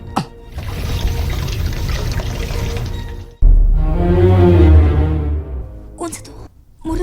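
Water is poured into a decorative jar: a steady pour that swells louder and fills with a rising, hollow ring as the jar fills, cutting off near the end, with a voice speaking over it.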